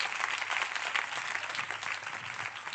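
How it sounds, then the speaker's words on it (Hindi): A church congregation applauds warmly during a prayer service, sustained crowd clapping that holds a constant, moderately loud level from start to finish. "ये कलाम को जोरदार तालियों से वेलकम करेंगे"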